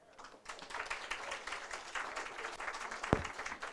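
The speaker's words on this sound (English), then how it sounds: "please a round of applause for our CSC board chair" A crowd claps for the board chair at a ribbon cutting for a community resiliency center in Monterey Park, steady applause building after a quiet start with one sharp knock near the end.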